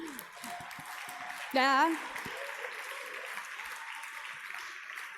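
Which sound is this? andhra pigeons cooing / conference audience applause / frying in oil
conference audience applause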